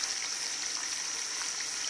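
A fizzing toy capsule dissolves in water, giving a steady bright crackling fizz like a sizzle that runs without a break and sounds close.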